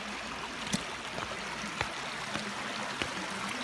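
River water flowing steadily near Kuranda Railway Station in Cairns, a constant close rushing wash with a few brief splashy ticks and no talking.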